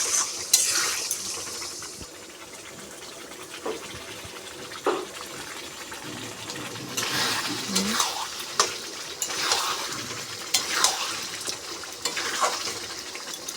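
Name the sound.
spices frying in oil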